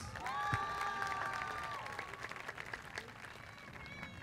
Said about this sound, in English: And a very nice round of applause for our chief academic officer, Ms. Beatriz Hernandez.